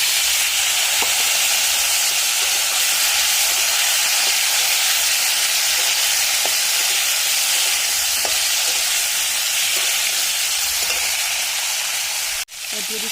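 Raw banana, potato and green chili fry with cumin seeds in hot oil, making a loud, dense and continuous sizzle close by, with occasional faint taps from a spoon and a brief clunk near the end.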